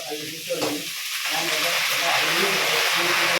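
Fresh green peas hit a hot pan and sizzle loudly and steadily, a dense frying hiss that builds after a brief stir and holds to the end.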